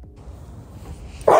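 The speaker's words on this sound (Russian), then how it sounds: "рычал на них" An adult dog growling at a puppy, a low rumbling growl up close that ends in a sudden sharp yelp or snap.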